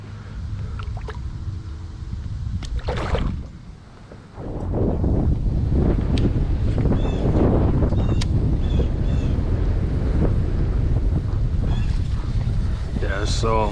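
Steady wind gusting across open water around a small fishing boat on a grassy smallmouth bass lake, loud and constant with buffeting rumble on the microphone, briefly dropping before swelling again.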